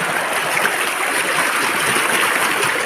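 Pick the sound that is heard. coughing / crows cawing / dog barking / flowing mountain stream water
flowing mountain stream water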